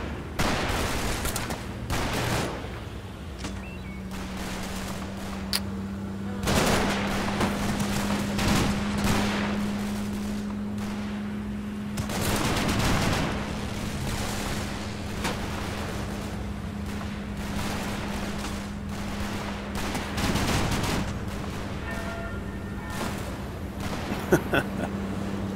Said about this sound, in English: Incredibly accurate rifle grenades.